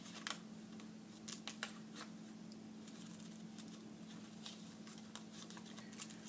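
Scissors snipping out a paper bunny illustration, faint scattered clicks and crisp cuts in short irregular bursts over a low steady room hum, close but quiet, no voices.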